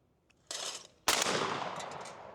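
A Yamamoto Pointer Auto shotgun fires one loud, close blast with a long ringing tail, preceded by a sharper mechanical clatter.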